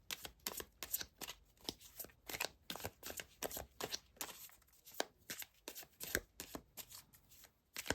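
Cards are shuffled over and over in quick riffling bursts, soft and close, with a steady rhythmic flutter and no talking.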